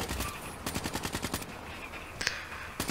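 Automatic AK-47 variant gunfire in Call of Duty: Black Ops III gameplay, heard as a close, loud string of rapid shots in quick bursts, followed by a brief pause and a few more sharp reports.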